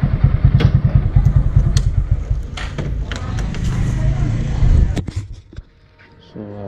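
A motorcycle is ridden into a parking area in Hubli, its engine thumping loudly up close in a steady putter before easing off and cutting out, followed by a few clattering knocks.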